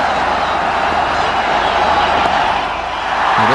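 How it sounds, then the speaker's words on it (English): A big cricket stadium crowd roars steadily as Sehwag reaches his fifty against England, a dense, sustained wash of cheering from thousands of spectators that holds at full volume throughout. "Listen to this crowd."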